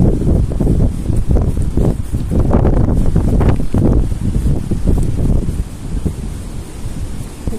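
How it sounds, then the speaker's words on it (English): Strong gusty wind buffets the microphone outdoors at a large cemetery, loud rumbling blasts rising and easing over several seconds with no talking. "It's definitely windy."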